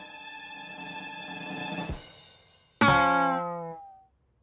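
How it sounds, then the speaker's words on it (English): Cartoon guitar playing: a sustained tone that swells, cuts off, then a sharp bright plucked chord rings out and decays over about a second and a half, with no talk. "a guitar player plays guitar and would sound like this on the guitar."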